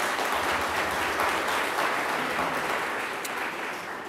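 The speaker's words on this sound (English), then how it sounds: "Let's give him a round of applause." A crowd applauds the architect at a housing development event with mayoral speeches, continuous close clapping that tapers slightly toward the end.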